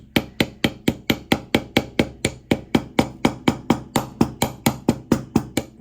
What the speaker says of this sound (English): I want to use the ball peen side, the little rounded side.